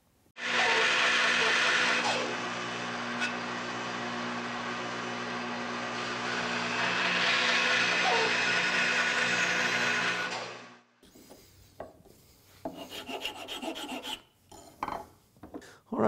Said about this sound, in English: Now I'm going to cut this out on the bandsaw and shape the rest of it.